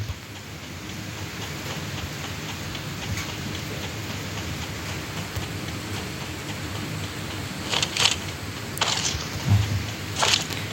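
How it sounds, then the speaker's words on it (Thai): Steady rain pours down outdoors in Thailand as a broadband hiss throughout, with a few brighter spattering bursts near the end and no talking. "ถ้าได้ยินเสียงฝนตกก็ขอโทษนะครับผมนะพอดีผมอ่านแล้วฝนมันตกครับผม"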